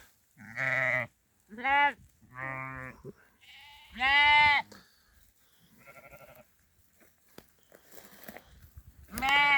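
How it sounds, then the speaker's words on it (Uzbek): Several sheep bleat in turn, loud and close, with quavering cries separated by short pauses and faint rustling between them. "Qo'ylar mana o'tlayapti."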